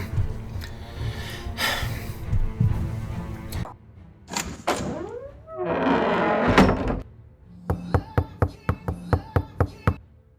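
Knocking on a door in a fantasy tabletop roleplaying scene: a burst of sharp, evenly spaced raps near the end, loud and close, following louder mixed sounds with some voices earlier.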